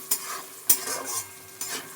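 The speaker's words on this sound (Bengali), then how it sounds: "তোমার মটরশুঁটি আর ক্যাপসিকামটা ভাজছি" Green peas and capsicum fry in a hot pan for fried rice, a continuous sizzle broken by three sharp scraping stirs of a spatula, close and clear with no voices.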